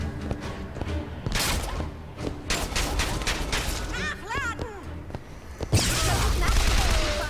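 Enemy gunfire in the video game BioShock Infinite: rapid bursts of shots and heavy impacts crack and thud in irregular volleys, with a loud crashing barrage near the end, while someone talks over the fighting.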